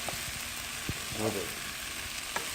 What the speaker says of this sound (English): Look how nice that thing is starting to saute with the